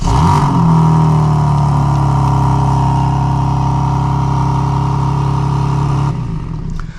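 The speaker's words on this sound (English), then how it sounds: "we can remote start this, so we'll triple tap on that lock button" Remote start of a BMW M4 CSL, its engine catching with a sharp flare and then holding a loud, steady, close idle for several seconds before the level drops.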